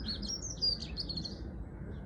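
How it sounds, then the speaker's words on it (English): Birds singing outdoors, bright high chirps and warbling phrases carrying faintly over soft background rumble, with no talking. "leaving the birds singing."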